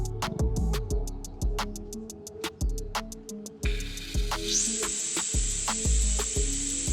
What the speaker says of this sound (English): Just let all that gas pressure come out, and then you'll have access to the cap